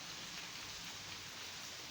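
Steady, dense rain hissing down on a surface, a continuous even wash of drops with no voices.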